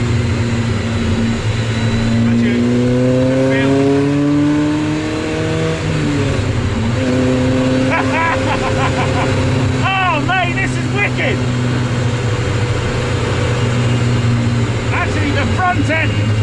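Civic Type R VTEC engine in a rear-wheel-drive Mini revs hard and loud, pitch climbing and sweeping through gears, with people talking over it inside the car.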